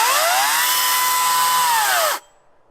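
Greenworks battery-powered chainsaw, 16 or 18 inch, whirring loud and close as its electric motor holds a steady high pitch for about two seconds, then cuts off abruptly into quiet.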